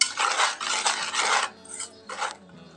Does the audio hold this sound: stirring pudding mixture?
yes